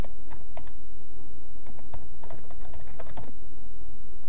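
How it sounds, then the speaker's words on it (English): Typing on a computer keyboard gives a quick, irregular run of close, crisp key clicks over a steady background hiss. "Type in your username"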